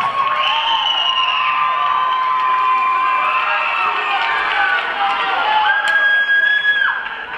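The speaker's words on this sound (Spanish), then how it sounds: "Recibamos con un fuerte aplauso a la competidora 156, Lucía Jiménez." An audience at the World Salsa Summit cheers and applauds a professional female solo salsa competitor from Costa Rica, a loud, dense roar of shouts and whoops sustained throughout.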